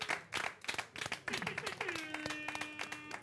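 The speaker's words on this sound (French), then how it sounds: "On va s'applaudir." A show audience claps in a quick, uneven burst of hand claps, moderately near, mixed with voices and a sustained tonal sound underneath.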